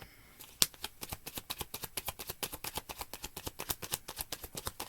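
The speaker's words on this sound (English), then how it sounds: "But let's pull some more cards." Tarot cards riffle and snap in a fast, even run of crisp flicks after one sharp slap, close and moderately loud with no voices.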